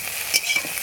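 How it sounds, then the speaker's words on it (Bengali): Soybean chunks fry in oil in a pan with a brief, soft sizzle and a stir, heard alone without talk. "সয়াবিনটা ভাজা হয়ে গেছে, এবার নামিয়ে নেব।"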